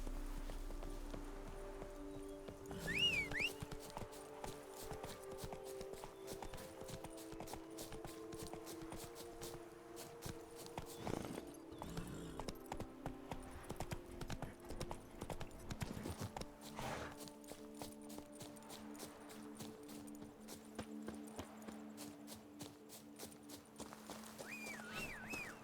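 Hooves of a horse clip-clop steadily through a ride in The Witcher 3, a continuous rhythmic patter layered under game music and ambient sound, with someone occasionally talking over it.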